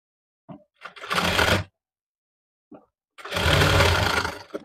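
A sewing machine stitching a cotton summer frock, running in two short bursts with brief quiet gaps between them, close and fairly loud, with no voices.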